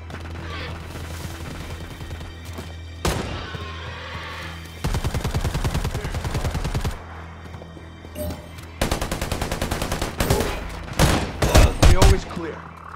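Rapid automatic gunfire from Predator: Hunting Grounds, with several loud sustained bursts and a cluster of sharp single shots near the end, set against a steady low game hum.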